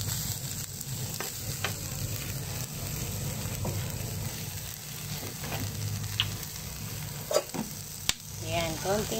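Noodles being stir-fried with bean sprouts and soy sauce in a hot pan, a steady sizzle running throughout, with occasional scraping stirs and clicks of the utensil, no talking.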